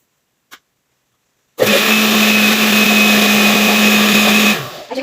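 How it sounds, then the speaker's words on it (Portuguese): A kitchen blender starts abruptly and whirs loudly and steadily for about three seconds while mixing vegan gluten-free carrot cake batter, then winds down, after a faint click in the silence before. "o liquidificador já bate sozinho"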